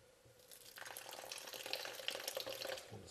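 A small splash of water is poured into a sticky, granular protein bar mixture in a kitchen, a brief soft trickle and wet stirring that swells and then fades, quiet and close.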